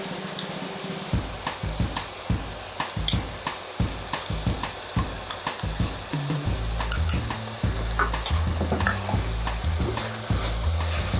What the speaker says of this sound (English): Stir it a little.